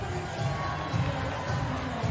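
Home crowd at a PWHL women's ice hockey game in Ottawa against Toronto, a steady distant arena roar with faint swells of cheering throughout.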